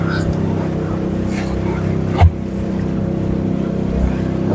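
Fishing boat at sea off the Konkan coast near Bhivbandar, Dapoli, with a steady low engine drone throughout, one brief loud thump midway and speech over it.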